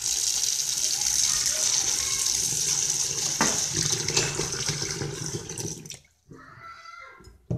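Water pours steadily from a tap into a container holding three dirty makeup sponges, a continuous gushing splash that runs for several seconds before cutting off abruptly, followed by a brief quieter trickle.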